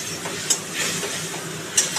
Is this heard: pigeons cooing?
no